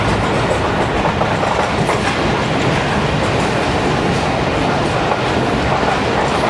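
A passenger train on the Karachi to Gujranwala route runs steadily on the tracks, a loud, continuous rumble with rhythmic clatter of wheels over rail joints heard close from inside or beside the carriage.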